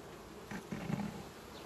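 Honeybees buzzing in an open hive during an August inspection, a steady close drone with a few slightly louder passes of individual bees, no talking.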